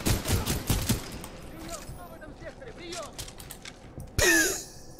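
Gunfire from a weapon in Titanfall 2, with rapid loud bursts at the start and another sharp burst near the end, mixed with game effects and a voice talking.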